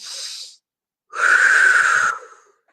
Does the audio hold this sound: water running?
no